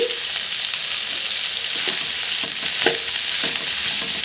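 Ivy gourd (dondakaya) frying and roasting in a pan, a steady close sizzle broken by scattered stirring clicks and scrapes.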